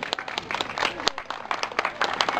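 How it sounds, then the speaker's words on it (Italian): A small outdoor crowd at an extemporaneous painting contest during an eel festival claps for a longtime judge, scattered, distinct hand claps in an irregular patter, fairly quiet and brief. "Facciamo un applauso, grazie."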